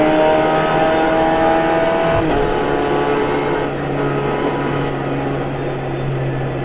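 A GMX5 race car in iRacing at Summit Point howls under steady acceleration, with a quick upshift into fourth gear partway through as the engine pitch drops and then climbs again, loud and continuous.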